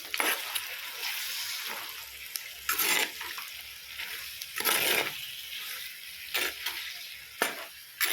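A curry with salt and turmeric added is stirred in a pan over a steady sizzle. Scraping strokes of a utensil recur every second or so, close and clear above the frying hiss.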